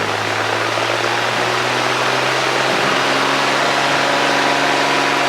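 A Cessna 210 airplane engine runs at full power: a loud, steady, unbroken drone with a deep hum and broad rushing noise, heard alone with no talking.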